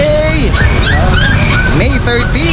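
Puppies at a pet shop yip, bark and whimper in a dense, overlapping chorus of high, wavering cries, loud and close, while someone talks over them.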